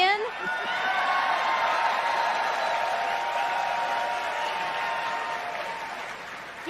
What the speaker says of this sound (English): He got louder claps than you did.